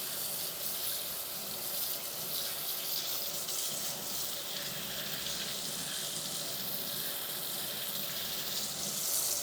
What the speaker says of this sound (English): Looks like the water's running pretty clear, so I'll just keep rinsing to be absolutely sure.